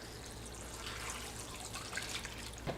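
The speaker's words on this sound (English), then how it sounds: "the only thing left to add is 4 cups of beef stock" Beef stock pouring into a soup pot, a faint, steady liquid trickle with a few soft drips and splashes toward the end.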